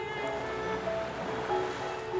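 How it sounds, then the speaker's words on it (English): Ocean waves wash onto the shore at the northeastern tip of Singapore, a steady rushing surf with a soft swell near the end, and no voices. "there wasn't much here, except the wind in the trees"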